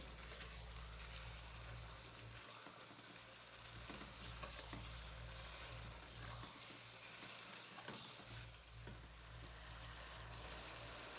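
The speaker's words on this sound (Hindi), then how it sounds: "तीन से 4 मिनट तक मज़ीद हमने स्पाइसेस के साथ चिकन को फ्राई कर लिया है।" Chicken frying with spices in a pot for a spicy pulao, a steady close hiss and sizzle with occasional stirring scrapes, continuous and fairly quiet with no talk.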